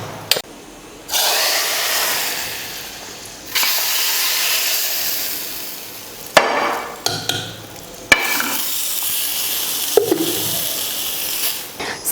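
A hot tempering of mustard seeds, cumin, curry leaves and asafoetida is poured into sambar, giving loud bursts of crackling sizzle that come and go with stirring and clattering utensil sounds between them.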